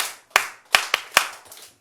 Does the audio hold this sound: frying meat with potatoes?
no